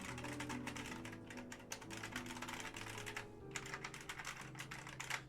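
Rapid typing on an IBM Model M keyboard, a dense run of clattering key presses with a steady low hum underneath and a brief pause midway.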